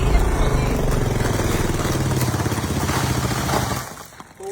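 A new motorcycle's engine running steadily close by with a loud, even, throbbing rumble that fades out near the end.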